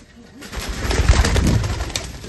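Pigeons coo softly amid a busy flutter and rustle, several birds close by with low, rolling calls blending into a continuous murmur.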